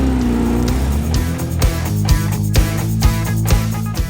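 A Porsche Boxster's engine drones loud and steady with a low, rumbling tone, the pitch climbing briefly and then holding amid repeated shifts and surges, with no talk over it.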